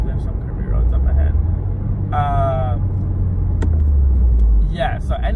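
A stock 2015+ Subaru WRX drives along curvy roads with a loud, steady low engine and road rumble heard from inside the cabin, while someone talks over it.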